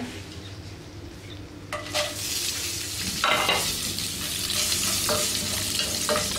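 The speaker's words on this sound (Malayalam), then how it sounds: "റെഡ് ചില്ലി ഒരു 6-7 എണ്ണം കുരു കളഞ്ഞിട്ട് ചേർത്തത്" Six or seven deseeded red chillies frying in hot oil, a loud continuous sizzle with stirring scrapes and brief bursts of crackle, close and steady throughout.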